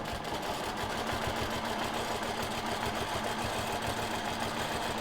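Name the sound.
sewing machine quilting along a ruler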